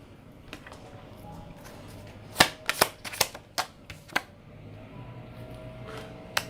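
Tarot cards being shuffled by hand, a quiet run of soft riffling snaps clustered in a few close bursts over a faint background.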